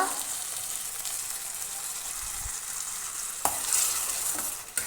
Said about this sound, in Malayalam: തക്കാളി നന്നായി മിക്സ് ചെയ്തിട്ട് അതിൻ്റെ ഒരു പച്ച ചുവയെല്ലാം മാറുന്നത് വരെ ഒന്ന് വേവിച്ചെടുക്കാം